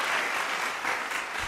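A crowd on the No Jumper show claps steadily for about a second and a half: dense, close, continuous applause that never pauses.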